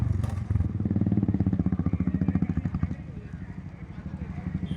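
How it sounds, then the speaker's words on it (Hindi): A Royal Enfield Bullet motorcycle engine revs loudly nearby in a fast, pulsing thump that rises and then settles to a lower throb, with a voice talking over it. "मैं बस बोल रहा था रेव करो, क्योंकि बुलेट था ना, अच्छा एकदम लाउड आवाज़ था उनके"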